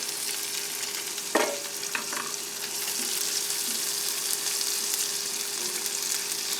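Shrimp fried rice frying in a pan on a camp stove inside a tent gives a steady close sizzle with crackling pops, plus a few utensil clinks near the start, and no one speaking.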